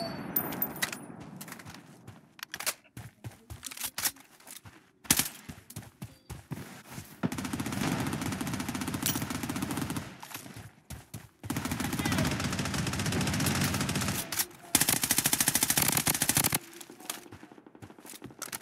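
Gunfire in the shooter game Blood Strike during a ranked match: repeated bursts of automatic fire and single shots, loud and close, broken by short pauses. A game voice line and faint voices sound between the bursts.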